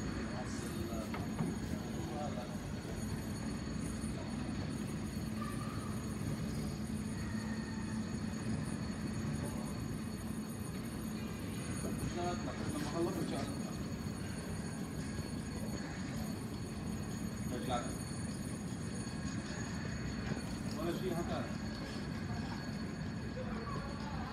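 A train arriving at a station rumbles along with a steady low roar and faint metallic squeals, heard from inside or nearby, with a voice murmuring faintly.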